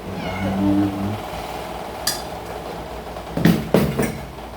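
A pet cat meowing at mealtime at home, giving a drawn-out meow at the start and then a couple of short, close, insistent meows near the end over light household background noise.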